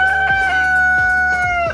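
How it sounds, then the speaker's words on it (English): A backyard rooster crows loudly and close by, one long sustained call that holds its pitch throughout, with a few soft clucks under it. "I love waking up every morning to the rooster crowing."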